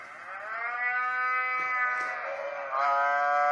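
Cattle moo from a video playing on a screen, giving one long, sustained, wavering low call that swells and continues, heard clearly in a quiet room.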